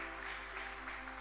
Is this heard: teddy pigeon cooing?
no